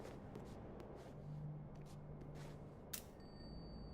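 Bell ringing in the video game This Bed We Made, a single bright ding near the end over a faint low game ambience.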